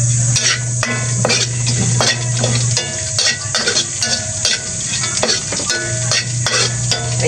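Dried salted fish fries in a pan with a steady close sizzle, while a utensil scrapes and clinks against the pan in a repeated stirring rhythm.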